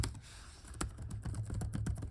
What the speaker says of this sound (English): If you want to hear the keyboard sound,